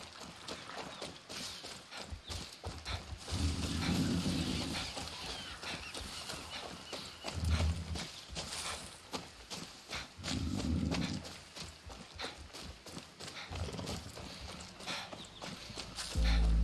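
A horse walks in the video game Far Cry 6, with rhythmic hoof clip-clops repeating at a steady pace, moderately close amid game ambience, with occasional louder thuds.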